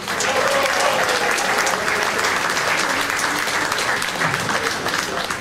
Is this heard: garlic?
no